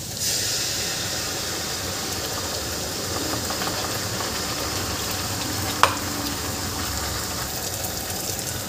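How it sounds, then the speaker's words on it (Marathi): Green chili paste sizzles steadily in a hot pan for Mumbai-style pav bhaji, a constant close frying hiss with light stirring scrapes and one brief clink. "आता ही मिरचीची पेस्ट आहे ही सुद्धा आपल्याला छान शिजवून घ्यायची आहे."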